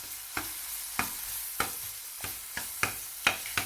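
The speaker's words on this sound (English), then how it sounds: "Stir it well until the raw smell goes out." Onion, green chilli and ginger garlic paste frying in a pan for kothu parotta, with a steady sizzle broken by about eight sharp scrapes of a spoon stirring at irregular intervals, close up and with no voices.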